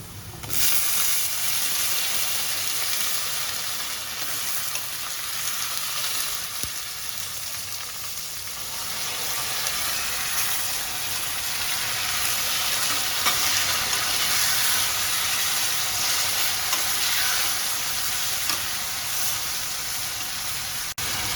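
Tomatoes sizzle and fry in a pan with garlic for an Italian vegetarian melanzane sauce, a steady, loud, continuous hiss with faint stirring scrapes throughout.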